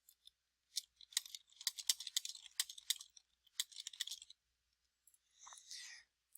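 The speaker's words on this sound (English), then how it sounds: "So I'm going to type that here." Quiet, crisp clicks of typing on a computer keyboard come in irregular bursts, with a short pause and a softer rustle near the end.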